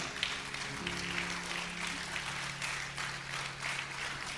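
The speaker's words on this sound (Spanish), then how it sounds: "Dar un aplauso a la palabra del Señor" A church congregation applauds at a Spanish-language sermon, a steady mid-level wash of clapping running the whole time, with a low sustained tone from an organ or keyboard beneath it.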